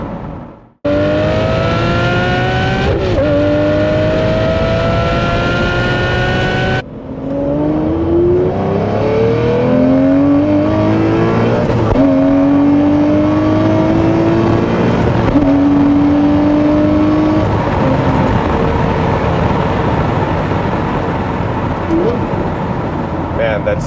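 Lamborghini Murcielago engine accelerates hard on the road, a loud roaring rev that climbs in pitch through several gear shifts, close and dominant.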